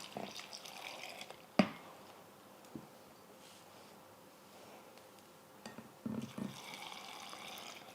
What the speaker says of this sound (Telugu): మనం ఈ వాటర్ని మొత్తం ఈ జార్లోకి తీసేసుకోవాలి